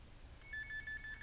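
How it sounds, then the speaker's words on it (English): An old-fashioned telephone ringtone from an incoming spam call trills in a steady rapid bell pattern of repeated bursts, moderately loud over a quiet room hum, with no talking. "What an old-timey ringtone."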